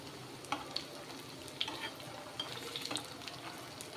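Flattened-rice aval cutlets fry in oil over a medium flame, giving a faint, steady sizzle with a few soft clicks and scrapes of a utensil.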